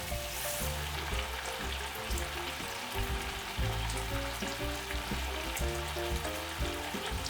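Tomato sauce with sugar, ketchup, water, salt and pepper bubbling and sizzling steadily in a pan, a close continuous frying hiss with soft pops and a background hum.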